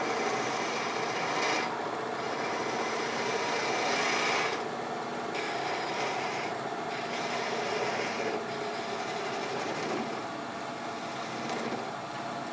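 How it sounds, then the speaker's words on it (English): Small detail gouge peeling end grain on a wood lathe, a steady raspy scraping hiss running continuously over the motor hum, with brief lighter pauses between cuts. "I'm going to use a very small detail gouge to get in there. We'll come in from the end grain and just peel it back."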